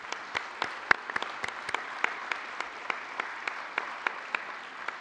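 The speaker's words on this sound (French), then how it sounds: "Je crois qu'on peut de nouveau l'applaudir." Quiet applause in an assembly hall during a plenary session of the French Economic, Social and Environmental Council, with distinct individual claps standing out over a soft wash of clapping.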